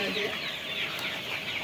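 Desi chickens clucking nearby, a short stretch of soft continuous clucking and chatter at moderate volume.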